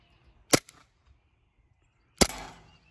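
An Elite Force Glock 18c airsoft pistol fires two sharp, loud shots about 1.7 seconds apart, the second with a longer rattling tail, in an otherwise quiet space.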